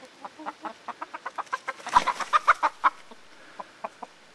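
Hybrid point-of-lay hens and a small resident cockerel cluck in a quick run of short, close calls that build to a louder burst in the middle, then trail off into a few scattered clucks.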